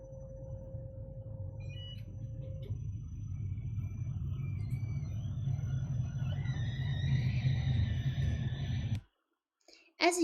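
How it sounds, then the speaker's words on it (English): A tram passes in the city with a loud, low rumble that builds steadily. A brief hum sounds early, rising whining tones follow near the end, then the sound cuts off. "This is how tram sounds and looks like."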